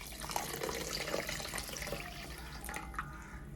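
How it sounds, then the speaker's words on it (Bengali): Water from a tap pours steadily into a wok of sugar being made into syrup for jalebi, a continuous splashing, running flow heard close up with no talk. "আমি এখন দিয়ে দিব এখানে 500 গ্রাম পানি।"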